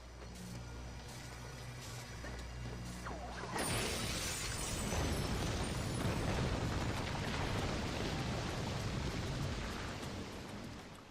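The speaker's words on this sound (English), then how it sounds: "From here we can see a dark gem to destroy. Let's go over and destroy it." Dark gem shattering in Spyro: A Hero's Tail, a sudden loud burst about three seconds in followed by a sustained crackling, rumbling roar over game ambience with no talking.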